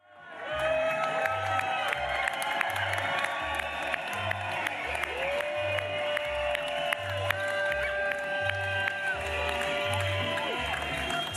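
A crowd of supporters at an election victory party in Forcalquier, Alpes-de-Haute-Provence, cheers and applauds continuously, with shouts and whoops over steady rhythmic clapping.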